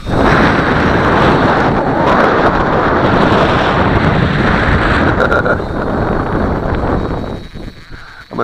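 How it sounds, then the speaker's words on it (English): Strong wind roars and buffets the microphone outdoors in a dense, continuous rush that holds steady and loud before easing slightly near the end. "It is really blowing here."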